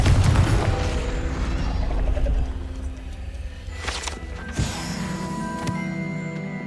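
A Confringo blasting curse goes off in Hogwarts Legacy with a sharp burst around the four-second mark, then a second thump, both over a dense, loud rumble of game ambience and music.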